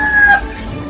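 A Philippine-breed rooster on a farm lets out a short, close crow lasting under a second, its harsh call fading quickly against a faint background.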